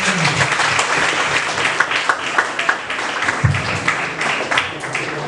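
An audience at a law fest debate finale claps steadily, a dense wash of hand claps throughout, fairly loud with a few sharper individual claps standing out near the front.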